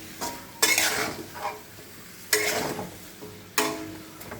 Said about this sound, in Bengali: এবার সম্পূর্ণ তরকারিটা মিশিয়ে দেবো, মিশিয়ে সাঁতলাবো।